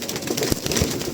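Racing pigeons, including German Beauty birds, cooing at feeding time, with soft close throaty coos and low bird murmurs overlapping in a short busy burst.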